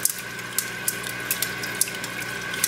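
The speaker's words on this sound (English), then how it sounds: "slowly start running water over the roots and gently teasing them out" Tap water runs steadily over the roots of a garden center houseplant being rinsed, a continuous splashing stream with small sharp drips and clinks scattered through it.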